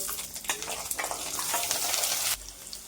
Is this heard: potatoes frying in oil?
yes